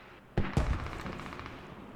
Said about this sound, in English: Multiple explosions coming out